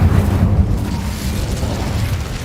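A fire spell cast in a Harry Potter video game: a loud, sustained low whooshing roar of flame with booming bursts, heard alone over about two seconds.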